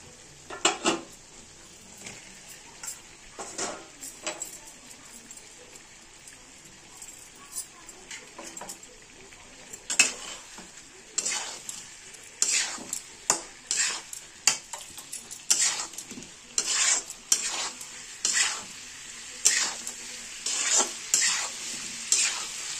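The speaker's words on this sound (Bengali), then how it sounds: "এবার এই পর্যায়ে আমরা ঢাকাটা খুলে এই আলুটা দিয়ে কষিয়ে নেব।" Chicken curry cooking in a pot as the lid comes off and potatoes are stir-fried in it, a steady sizzle under repeated scraping and clanking strokes of a metal spoon against the pan, growing busier and louder toward the end.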